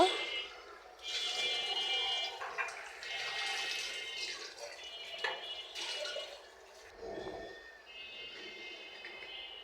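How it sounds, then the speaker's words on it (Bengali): Dirty plates and bowls are rinsed under running water, a close, irregular splashing and trickling with occasional clinks, rising and falling in bursts with brief lulls. "যে আধুয়া প্লেট বাটিগুলো ছিল ওগুলো ধুয়ে নিচ্ছি"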